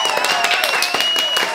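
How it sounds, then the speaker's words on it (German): A short round of clapping from a small group of friends in a room during a sweet, sour and spicy candy challenge, loud and close, with a steady tone and voices mixed in. "Applaus"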